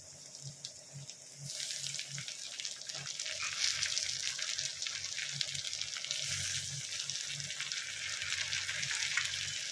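Ginger, green chilli and tomato frying in a pan for rajma, a dense, fairly quiet hiss of sizzling that swells after the first second and holds steady, heard up close with no talking.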